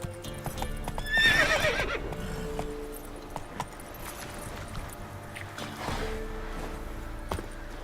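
Roach, a horse in the video game The Witcher 3, gallops with rapid clip-clopping hooves and a loud whinny early on, then the hoofbeats continue more steadily at mid distance without talk.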